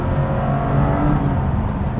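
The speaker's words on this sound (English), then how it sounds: "naturally aspirated V12. Let's listen to it." Continuous deep rumble of a naturally aspirated V12 engine in a restomodded Aston Martin Vanquish with a manual conversion, loud and close, holding a steady throaty drone without talk.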